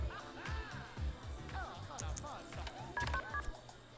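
A phone in the MySims video game dials out to call a taxi, giving a short burst of beeping tones near the end over continuous talking and game background sound.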